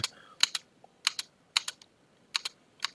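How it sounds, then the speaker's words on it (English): Space bar clicks on a computer keyboard while paging through Ubuntu command-line output, close, sharp tapping in irregular pairs and singles spread across three seconds in a quiet room, no talking. "I'm clicking the space bar to keep that going."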